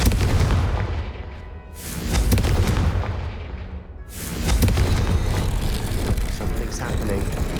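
Confringo fire spell blasts in Hogwarts Legacy, heavy booming explosive bursts with rumbling decay, two loud impacts separated by brief lulls, then sustained crackling roar.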